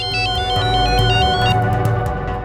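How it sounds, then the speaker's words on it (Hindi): A phone ringtone plays a repeating electronic melody, loud and close, steady throughout with no talking. "तारे सिंह शान का फोन है।"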